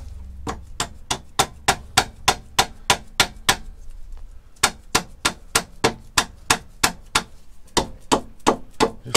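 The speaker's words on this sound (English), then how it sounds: "I'll just get a little dead blow hammer" A steady run of sharp, evenly spaced dead blow hammer strikes during a Honda Deauville 650 front tyre change, close and loud, with a short pause midway before the striking resumes.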